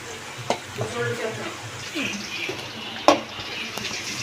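Onions and green chillies frying in a pan for prawn biryani, a steady close sizzle broken by a few sharp stirring clacks and scrapes, with speech at moments.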